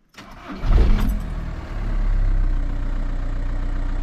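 A Volkswagen Touran engine cranks and catches after an oil change, with a brief whirring start and a sharp rev before settling into a steady, close idle.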